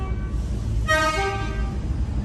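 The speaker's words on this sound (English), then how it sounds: "Oh, that's a train departing." A train departs on the Somerset & Dorset heritage railway, its horn giving one steady harmonic blast of about half a second over a constant low rumble of background noise.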